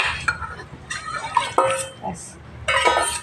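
Lote fish is added to a pot of simmering Bengali curry with potatoes, bringing clinks of a metal spoon against the pot and soft wet stirring in short bursts, with a voice talking over it.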